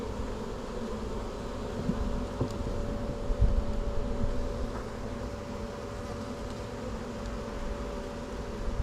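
Dense, steady buzzing of many honey bees close around an open beehive during an inspection, a continuous hum with a faint constant tone and occasional soft knocks, no voices.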